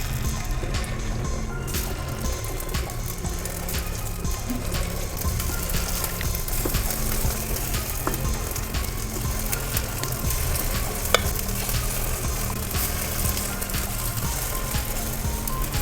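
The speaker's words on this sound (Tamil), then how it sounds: "குழிப்பணியார சட்டி வச்சு எண்ணெய் ஊற்றி வச்சுருக்கோங்க. எண்ணெய் காஞ்சிடுச்சு. இப்போ இதில் கொஞ்சம் கொஞ்சமாக மாவு எடுத்து ஊற்றிக்கலாம்." Little millet batter fries in an oiled kuzhi paniyaram pan, a dense, even sizzle holding steady throughout with faint scattered clicks and spoon taps.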